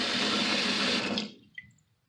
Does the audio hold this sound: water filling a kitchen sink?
yes